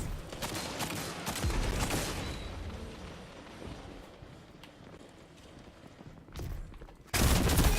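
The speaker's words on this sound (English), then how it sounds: "Let's see if I can do any work with a grenade launcher." A grenade launcher fires in the Destiny 2 video game, with heavy blasts and rumbling explosions standing out from a busy layer of in-game combat noise, ending in a loud burst.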